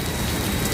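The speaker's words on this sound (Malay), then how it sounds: "Tapi sebenarnya hujan." Steady, dense rain falls over Kuala Lumpur, heard from high up in a hotel tower as a constant, loud hiss with no pauses and no voices.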